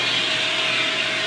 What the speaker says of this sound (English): you definitely want to keep a vacuum.